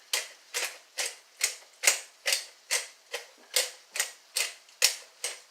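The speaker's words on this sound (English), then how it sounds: "Oh, my black pepper. Yes, my pepper grinder had its day." A worn, nearly empty pepper grinder grinds black pepper up close, making about a dozen evenly spaced, gritty crunching twists in a steady rhythm.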